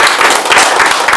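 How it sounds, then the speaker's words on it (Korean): A seminar audience gives a short, loud burst of continuous applause and clapping. "다시 한번 박수 한번 쳐주시고요."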